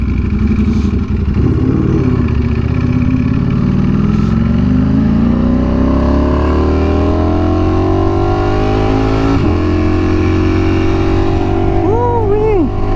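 A V4R motorcycle fitted with a new exhaust roars loudly and continuously as it is ridden, its engine pitch rising steadily through the gears with a brief dip at a shift.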